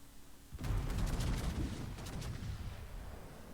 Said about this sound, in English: I throw some shells at the New York